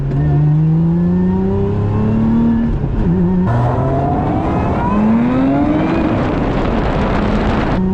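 Lotus Emira accelerating hard through the gears, engine note climbing steadily then dropping at each shift and surging again, loud and close from inside the cabin with road and wind noise building, no talking.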